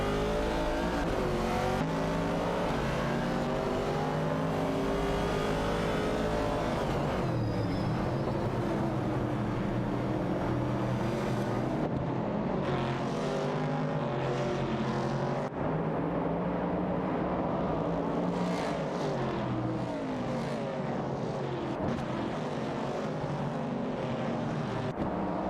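Race car engines in an AI-driven racing video game drone and whine steadily, overlapping pitches rising and falling as cars accelerate, continuous and fairly even in loudness.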